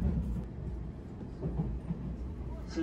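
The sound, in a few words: express train running on rails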